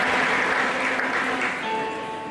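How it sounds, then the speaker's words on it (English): A crowd applauds at a faculty induction and oath-taking ceremony, a dense, steady wash of clapping that slowly fades, with a faint voice or tone coming through near the end. "Please, another round of applause for our team."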